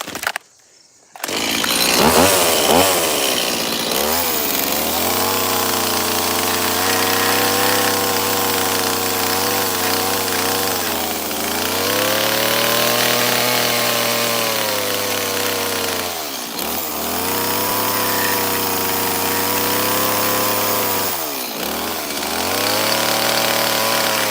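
A chainsaw carving wood runs loudly and almost continuously for a long stretch, its engine pitch dipping and rising as the blade bites in.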